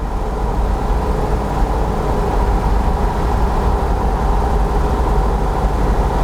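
Cabin of a Volkswagen-based off-road kit car cruising at 70 mph around 3,000 rpm: a constant, loud low engine drone mixed with broadband road and wind noise, steady throughout with no talking.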